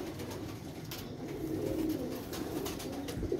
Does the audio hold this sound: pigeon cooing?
yes